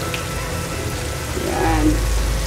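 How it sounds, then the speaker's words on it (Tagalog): Canned sardines dropped into a hot pan of softened tomatoes, giving a steady crackling sizzle that swells toward the end, close and continuous. "Lagay na natin yung isang latang sardinas."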